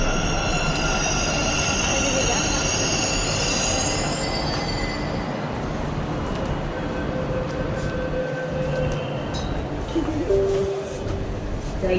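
A Bangalore metro train runs with a steady, loud rolling roar and high wheel squeal heard from on board, the rumble shifting in pitch as it moves.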